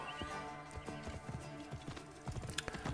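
Rhythmic hoof clip-clops from a horse trotting along in the video game Assassin's Creed Origins, fairly quiet and steady, with no talking.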